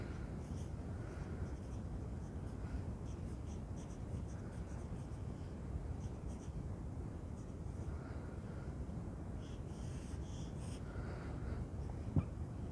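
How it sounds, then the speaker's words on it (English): A pen scratching steadily across paper at close range, quiet continuous scribbling strokes over a faint background hiss, with one small tap near the end. "I'll just write it down."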